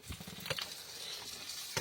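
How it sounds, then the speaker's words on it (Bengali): Fried Sona Bogo fish sizzles in hot oil as it is stirred into a spicy curry at an outdoor picnic in the Sundarbans, a steady close crackle with a few scraping stirs. "এখানে মাছ ভাজা হয়েছে আর সেই মাছগুলো আমরা এখন ঝাল করব"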